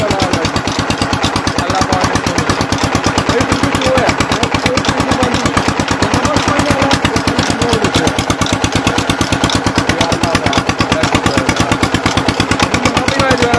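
Irrigation water pump engine running steadily on a farm at unregulated speed, a loud, even, rapid chugging throb that continues without break from start to finish, close by.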